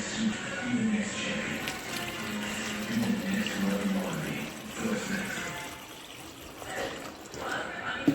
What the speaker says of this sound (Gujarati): આપણે એને 2 પાણીથી ધોઈ કાઢીશું